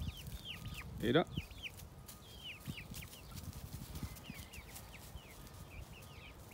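Hens kept in a backyard flock cluck softly and intermittently over outdoor ambience with birdsong, a person briefly speaking nearby.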